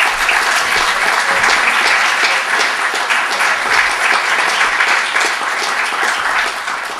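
Sustained applause from an audience welcoming a speaker onto the stage, a dense, even wash of many hands clapping that holds steady for several seconds before easing slightly at the end.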